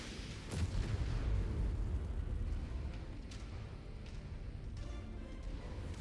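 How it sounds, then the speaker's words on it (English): Artillery explosions in the Mechwarrior 5 video game: a heavy boom early on, followed by rumbling blasts and scattered sharper cracks, fairly loud and continuous throughout. "And more artillery. Ah, good lord. We got enough artillery?"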